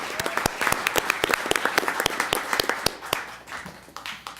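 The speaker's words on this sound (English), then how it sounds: "let's give them a round of applause" A round of applause at a council meeting for young athletes' race results: brisk, fairly close clapping from a small group, steady for several seconds, then thinning out.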